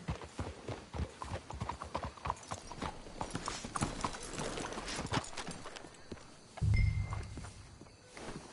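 Horse hooves clip-clop steadily in Red Dead Redemption 2, the close, even rhythm of a walking horse continuing throughout, with a brief low thump near the end.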